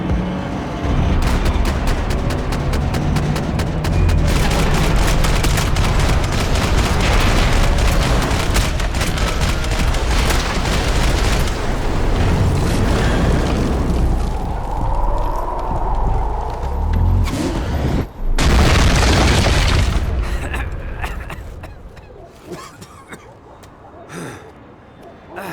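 Gunfire and explosions from the video game Max Payne 3 come as a loud, dense barrage of rapid shots and booms over about twenty seconds, then ease off, with voices shouting amid the fighting.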